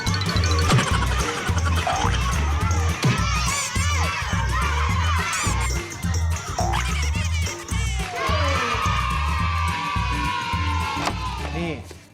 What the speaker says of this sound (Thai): คือกองเชียร์แน่นมาก กองเชียร์ขึ้นไปบนเวทีด้วย